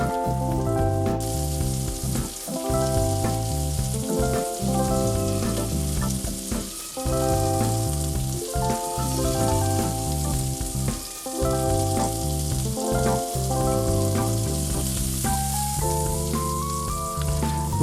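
Veggie burgers fry in a pan with a continuous dense sizzle and crackle, steady and close for a long stretch, with occasional clinks and scraping of a utensil over the pan.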